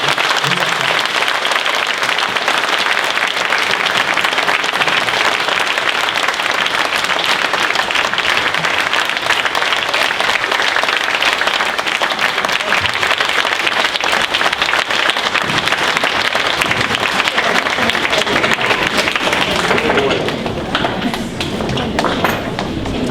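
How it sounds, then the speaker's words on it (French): A concert audience at a children's orchestra performance in Grand Verdun gives long, dense, sustained applause that is loud and close. It eases slightly near the end. "je vous demande quand même de faire un tonnerre d'applaudissements pour l'orchestre des Mosses du Grand Verdun."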